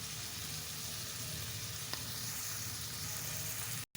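Bitter gourd slices and a few potatoes fry in a pan, giving a steady, even sizzle throughout with one faint tap near the middle, no voices.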